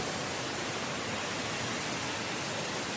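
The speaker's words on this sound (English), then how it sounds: "this waterfall here that we're standing on top of goes way down over to there" A North Carolina waterfall is heard from the top of its drop. It makes a steady, even rushing hiss with no pauses and no voices.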